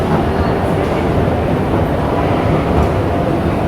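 A metro train rumbles and roars steadily and loudly at a subway entrance, a dense, continuous rolling din with no clear pauses.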